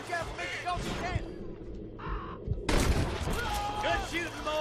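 Gunfire cracks through a shootout in the Red Dead Redemption video game, with sharp shots breaking out among shouting voices, a brief lull, then a louder burst of firing and yelling near the end.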